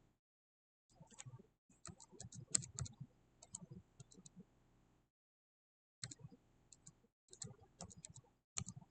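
Quiet computer mouse clicks in sparse bursts at a desk, short sharp ticks clustered in groups with a pause in the middle, close and faint, no talking.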